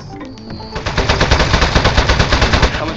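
Rapid automatic gunfire from the desk gun in the video game Aperture Desk Job, a loud, dense burst of evenly spaced shots continuing steadily after a brief lead-in of game sounds.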